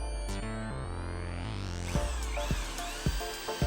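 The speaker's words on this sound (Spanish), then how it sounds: "Para que el colchón respire, haremos unos agujeros de unos 30 milímetros de diámetro." A power drill bores 30 mm holes through a wooden board for a camper van bed frame, its motor whining steadily and loud nearby, with the pitch sweeping as it bites and a few sharp knocks from the wood toward the end.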